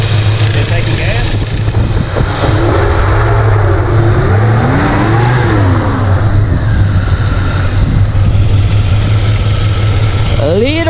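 A V8 El Camino engine runs after its first start in years, idling with a steady low rumble and rising and falling revs, loud and close, while people talk over it.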